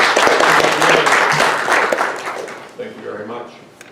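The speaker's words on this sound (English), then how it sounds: "And let's welcome George with a round of applause." A gathered audience applauds to welcome a speaker, with loud clapping at first that gradually thins and fades while voices murmur through it, leaving a few scattered claps and room noise at the end.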